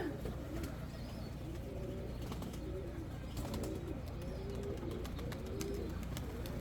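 Rare Sina pigeons coo softly in repeated low, throaty phrases, fairly faint against a steady background hiss with scattered clicks and taps.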